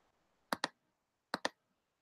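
Computer mouse clicking while working in a Jupyter notebook: two quick pairs of sharp, close clicks, each pair a double click, with near silence between them.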